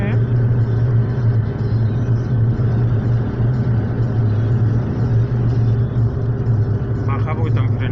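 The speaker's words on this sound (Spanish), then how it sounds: "atasco en la entrada de Cheste" Cars crawl in a traffic jam near the Cheste entrance of the A3 motorway, a constant low engine rumble and road drone heard from inside a vehicle, continuous and fairly loud.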